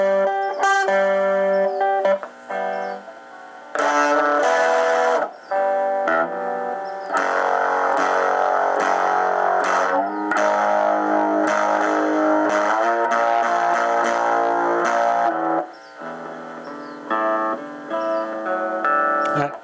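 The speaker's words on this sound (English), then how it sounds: "I'm doing some hammer offs up and down the fretboard." Electric guitar hammer-offs run up and down the fretboard through a tiny Honeytone mini practice amp, distorted and buzzy, with quick bursts of notes broken by short pauses and one long sustained flurry.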